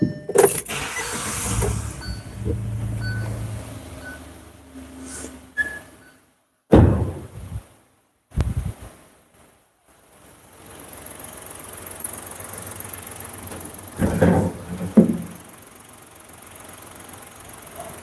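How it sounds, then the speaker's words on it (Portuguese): A car engine cranks and catches in a couple of loud bursts, then settles into a steady low idle that carries on, with a faint whirr early on and no talking. "Vou dar partida no carro."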